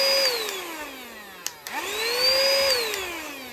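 A small motor whines, winds down to a stop with a click, then is switched on again and spins back up to a steady high-pitched hum.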